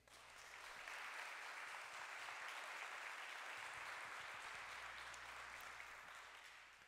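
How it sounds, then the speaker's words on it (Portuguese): A church congregation applauds at a sermon, producing a steady wash of clapping. It sounds faint and somewhat distant, swelling in and holding for several seconds before easing off, with a low hum underneath. "Você pode aplaudir a Jesus Cristo?"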